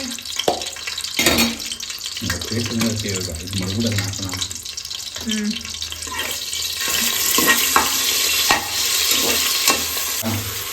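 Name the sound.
food frying in a pan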